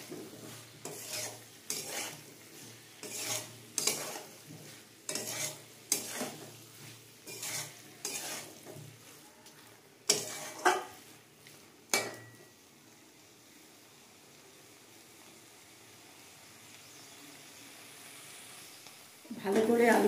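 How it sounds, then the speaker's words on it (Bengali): Potatoes and banana flower are sautéed and stirred in a pan, giving repeated scraping strokes with a soft sizzle for about twelve seconds before the stirring fades to a quiet background. "আলু দিয়ে আমি আবারও ভালো করে কষিয়ে নেব।"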